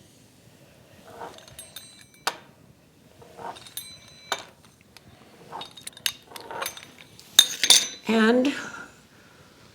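A knife cuts dumpling dough into strips about an inch wide, giving a series of close, sharp metallic taps and clinks against a board or dish at irregular intervals, with a brief word of speech.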